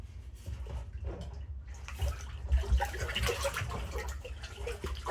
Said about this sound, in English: All right, we're gonna give that a stir.